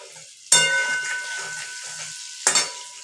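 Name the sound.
potatoes frying in oil with cumin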